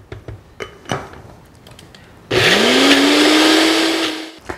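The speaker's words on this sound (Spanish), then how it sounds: "Vamos a licuar poco a poco." A blender blends a fairly dry mix of cold salsa ingredients. The motor kicks on abruptly after a few soft taps and clicks, rises quickly in pitch, then holds a loud, steady whir before cutting off.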